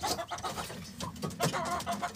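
A hen clucks in a rural Filipino yard among ducks and chicks, a run of short, close, uneven clucks with small pauses and no speech.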